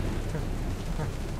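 Dense, steady rain with a low rumbling thunderstorm in the Telltale Jurassic Park video game, a continuous broadband wash without clear breaks.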